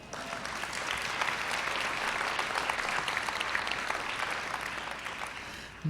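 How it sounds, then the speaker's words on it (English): Sustained applause from an audience at a Muskegon Community College evening event, a dense, steady wash of many clapping hands held at an even level throughout without pause. "Now, I need to get a clap on that."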